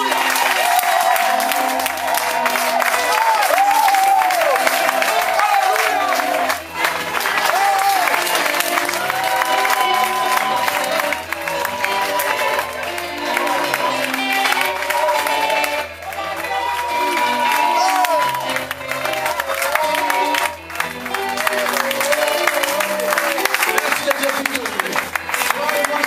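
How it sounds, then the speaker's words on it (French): A church congregation at a French-speaking worship service claps and cheers for Jesus in one loud, sustained burst that lasts throughout, with singing and shouted voices layered over the ovation. "Maintenant, nous allons acclamer Jésus."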